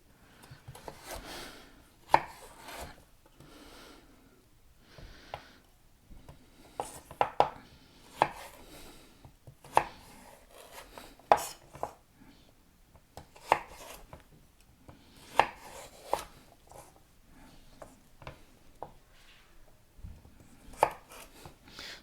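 A knife chops carrots on a board in a home kitchen, giving a steady run of sharp, close taps with short pauses between bursts and no talking.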